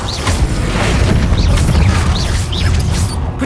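A Hogwarts Legacy Incendio fire spell bursts loudly amid combat, with a booming, crackling impact and short whooshing swells repeating over a steady rumble.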